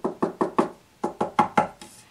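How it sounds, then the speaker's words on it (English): Knuckles rap on a deep hardwood pencil box holding a 100-piece wood-cased colored pencil set: four crisp knocks, a brief pause, then four more in an even rhythm, close and clear with no talking. "I'm gonna knock on it for you."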